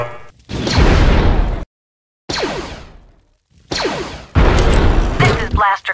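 Blaster cannon fire in the Star Wars Galactic Battlegrounds strategy game: several loud, booming whooshing bursts separated by brief silences, with a voice speaking between them.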